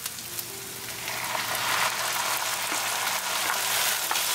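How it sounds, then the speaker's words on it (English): Diced tomato frying with onion and green chili over high heat for a potato katli recipe, giving a steady close sizzle that swells slightly partway through and carries on alone with no talk. "Cooking our diced tomato for 1 minute."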